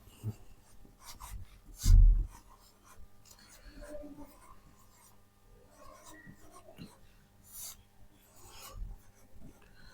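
Handwriting on paper with a pen or marker, producing soft scratchy strokes in short bursts with a louder knock near the start, quiet and close.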